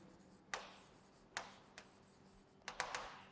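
Pen strokes from writing math equations by hand on paper, heard as a handful of brief, soft scratches separated by pauses in a quiet room, with no speech.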